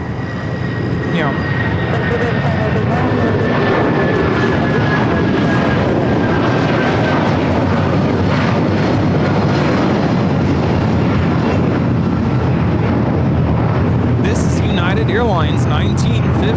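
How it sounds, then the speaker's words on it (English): A Boeing 757-200 airliner roars loudly through its takeoff run at LAX, a sustained jet-engine rumble with a rising whine, while people talk over it. "Airlines 1950 taking off to Newark on the 757-200."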